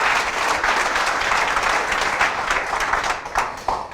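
Sustained applause from an audience at a company compensation-plan presentation fills the room, a thick, even clatter of many hands that thins slightly toward the end, with a few sharper claps standing out.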